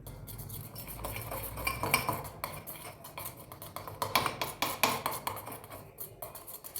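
A spoon mixing a face pack in a bowl, quick repeated clinks and scrapes against the bowl in uneven bursts, close and fairly loud, with no voices.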